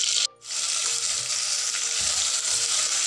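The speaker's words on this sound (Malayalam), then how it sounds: "ഈ ഇഞ്ചിയും വെളുത്തുള്ളിയും ഈ സവാളയും ഉരുളക്കിഴങ്ങൊക്കെ ഒരു മിനിറ്റോളം നന്നായിട്ടൊന്ന് വഴറ്റിയെടുക്കാം" Ginger, garlic, onion and potato sauté in a pan, making a continuous close, even sizzle with a brief dip near the start and faint stirring underneath.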